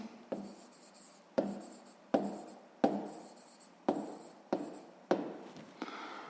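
Pen scratching out a sum in a sixth-grade maths exercise, heard close and quiet as a series of about nine short, brisk writing strokes with brief pauses between them, alone without talk.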